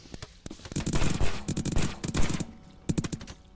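Rapid bursts of laser gunfire in the Rec Room video game, loud and close, with clustered automatic volleys and brief pauses between them.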